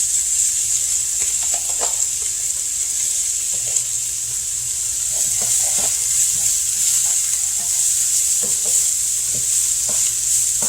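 Green onions sizzle loudly in an oiled pan alongside softened onions and carrots, a dense, constant frying hiss close up, broken by soft scraping stirs, with no voices.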